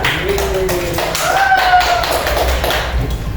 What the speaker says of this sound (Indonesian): Oke, silakan dulu tepuk tangan.